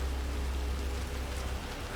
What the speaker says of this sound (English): I'm never going out in the rain again.